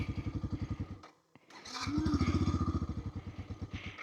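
A Royal Enfield Himalayan 450 motorcycle engine throbs in rapid, even pulses, drops briefly, then revs back up strongly and holds a loud, fast beat close by.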